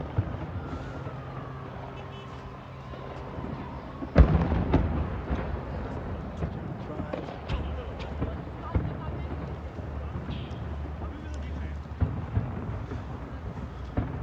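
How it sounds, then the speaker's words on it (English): New Year 2020 fireworks in San Francisco boom and crackle amid a noisy crowd, with one sharp, loud blast standing out among the continuing rumbling bursts and voices. "Everybody is watching the fireworks from there."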